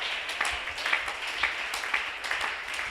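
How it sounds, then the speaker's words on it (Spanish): A church congregation applauds during an evangelistic week service, a steady wash of many hands clapping at moderate distance, rising and falling slightly without a break and with no voices on top. "Un aplauso al Dios que es sobreabundante"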